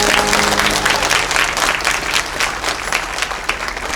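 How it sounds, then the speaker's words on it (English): An audience gives a sustained round of applause for the assistant directors at a youth theatre production of Snow White, dense, even clapping that fills the whole stretch, with faint voices in the mix. "one more round of applause for our assistant directors"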